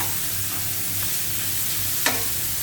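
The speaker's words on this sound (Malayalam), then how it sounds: "നമ്മൾ മാരിനേഷൻ ചെയ്യാനുള്ള ഉള്ളിയാണ് ഈ ഫ്രൈ ആക്കിക്കൊണ്ടിരിക്കുന്നത്" Onions for a marinade frying in a pan, a steady broadband sizzle throughout with a sharp scrape of a spatula near the end, close and fairly loud with no talking.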